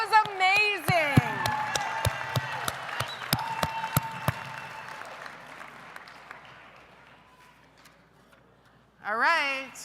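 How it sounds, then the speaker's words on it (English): An audience at a gala applauds after a brief voice, a fairly soft wash of clapping with a few sharp single claps up front that slowly fades out, followed by a short burst of speech. "You guys, let's give Glenn a round of applause."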